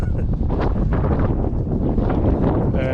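Gusty wind buffets the microphone with a low, rumbling roar that swells and dips unevenly, muffling faint speech underneath.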